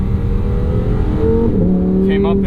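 The V10 of a 2023 Lamborghini Huracan Sterrato revs up from inside the car on a winding California mountain highway, its steady loud drone climbing in pitch as it accelerates, with a voice speaking over it.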